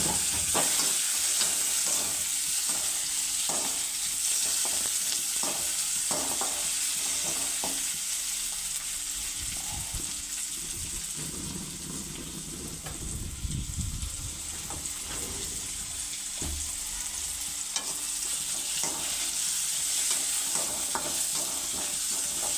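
Tomatoes sizzle and fry with roasted onion in a pan, a steady close hiss with stirring scrapes and a louder bubbling burst in the middle, no voices.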